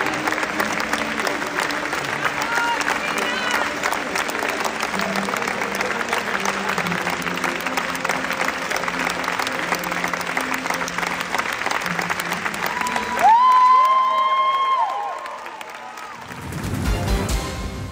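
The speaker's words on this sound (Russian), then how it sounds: "зрители аплодировали ей стоя около 8 минут" An audience gives an actress a long standing ovation, with sustained dense applause and some crowd noise throughout. A brief tonal sound cuts in near the end and the clapping drops away.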